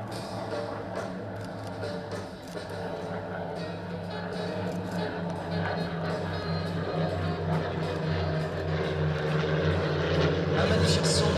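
Several propeller aircraft with inline Renault engines drone overhead together in a formation flypast at the Avord air base airshow, a steady throbbing engine roar that builds slightly louder as they pass, with some crowd noise beneath.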